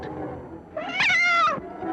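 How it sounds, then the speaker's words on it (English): A frightened cat lets out a single loud, drawn-out meow that rises and wavers for almost a second, standing clearly alone above a quiet background. "yet a cat arches its back in fright"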